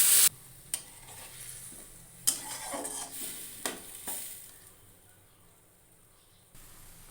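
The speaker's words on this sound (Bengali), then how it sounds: "এবার আমি দুধটা দিয়ে দেব।" Milk goes into a pan of frying ginger, poppy seed and mustard paste, giving close sizzling and stirring with a few sharp clinks of a utensil against the pot; no one speaks.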